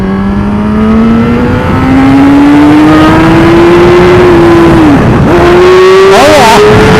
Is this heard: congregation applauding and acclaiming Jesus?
no